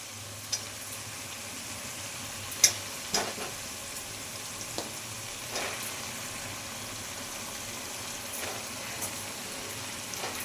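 Chicken pieces frying in spiced oil that has begun to separate, a steady close sizzle with occasional stirring scrapes and small clatters over a low background hum.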